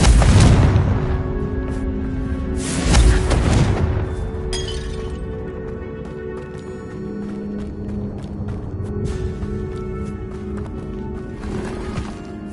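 An explosive Confringo spell cast in Hogwarts Legacy goes off with a loud, close burst and shattering crack, trailed by a second boom and a long rumbling decay under game ambience.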